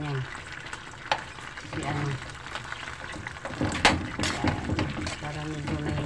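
Sardines being mashed while sautéing in a frying pan, with a steady oil sizzle and scraping, stirring clatter from a spatula, fairly close, while someone talks.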